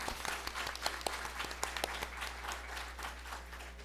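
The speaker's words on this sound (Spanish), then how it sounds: "un aplauso, por favor." Audience applause at a panel session, steady dense clapping from a seated crowd with sharper individual claps standing out, moderately loud and continuous throughout.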